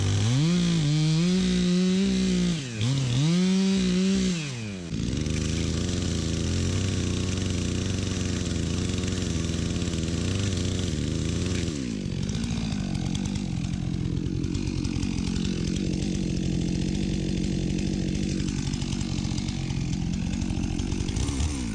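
A chainsaw revs a few times and then bites into a dead pine tree, settling into a loud, steady cutting drone close by that holds on without a break.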